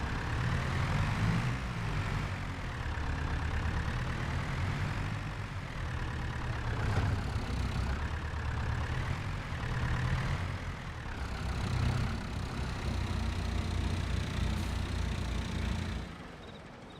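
A tractor engine in Farming Simulator 22 runs at a steady, loud drone, its pitch rising and falling slightly as the throttle changes, before easing off at the end.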